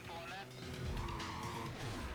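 Mazda RX-7 in NFS Carbon, its engine droning as tires squeal through a short skid, with a voice talking over it.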